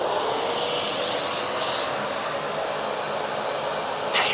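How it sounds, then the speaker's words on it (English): A wet vacuum sucks water out of a car cabin during interior cleaning, giving a loud, continuous motor whine and airy rush that holds steady throughout with no talk. "I'm going to start the vacuum."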